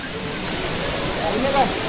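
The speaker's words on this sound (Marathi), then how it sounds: "असं वरतून पाणी येते झऱ्याचं स्वच्छ पाणी एकदम स्वच्छ" Steady broadband rush of spring water spilling down over rocks near Kedarnath, close and continuous, with a faint voice murmuring near the end.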